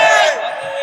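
A crowd at a Bangladeshi Islamic waz sermon roars back a loud shouted reply to the preacher in one brief, dense burst of many voices.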